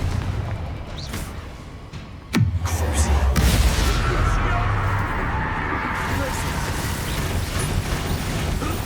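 A Confringo explosive spell goes off in Hogwarts Legacy, a sharp blast near the start followed by a loud, sustained low rumble and crackle of fire, with a player's voice talking over the game sounds.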